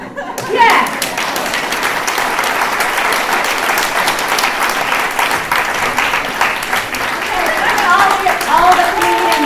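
A comedy club audience applauds a comedian: loud, dense, sustained clapping for the whole stretch, with a few brief voices calling out over it.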